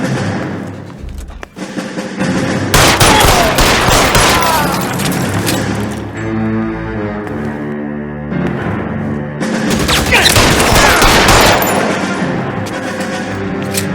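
Gunfire in L.A. Noire: a loud barrage of repeated shots and heavy thuds erupts in two dense bursts, with tense orchestral music droning between them.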